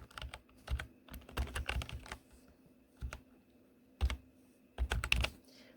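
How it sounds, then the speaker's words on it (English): Quick bursts of typing on a computer keyboard, close and fairly quiet, with short flurries of keystrokes separated by brief pauses while entering a command in Windows. "press Windows plus R and type services.msc."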